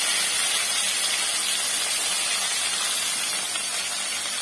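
Ginger and tomato hitting hot oil seasoned with panch phoron, dried chillies and bay leaf, giving a dense, steady, loud sizzling hiss that holds evenly for several seconds.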